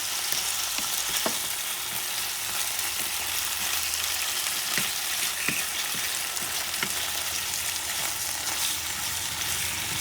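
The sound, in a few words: stirring chicken breast stew in a pan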